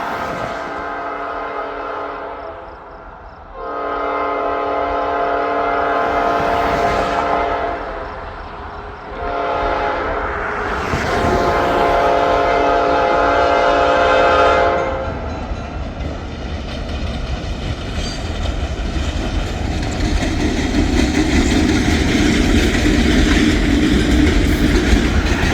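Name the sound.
locomotives and freight train passing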